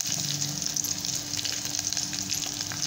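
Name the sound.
curry leaves sizzling in hot oil for buttermilk tempering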